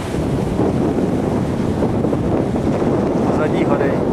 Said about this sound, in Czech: Trošku tady fouká vítr